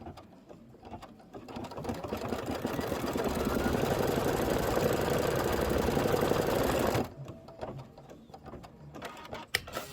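An embroidery machine stitches fabric for a pocket pillow, running in a rapid steady mechanical chatter for several seconds before stopping and leaving quiet handling noises.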